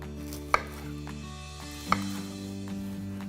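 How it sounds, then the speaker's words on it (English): Two sharp knife chops land about a second apart as whole Brussels sprouts are sliced into quarters on a cutting board, against a steady background hum. "keep it whole, and slice down the back so we have nice quartered Brussels"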